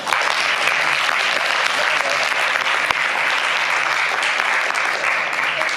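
An audience at a conference applauds continuously and loudly to welcome speaker R.J. Snell, dense steady clapping throughout.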